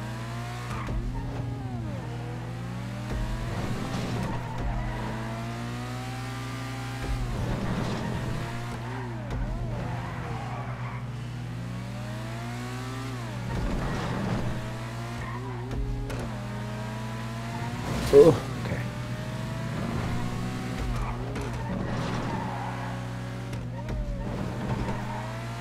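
Race cars lapping a custom road course in GTA Online, with engines revving and rising and falling repeatedly through gear changes and corners, accompanied by a steady low hum and occasional talk over the top.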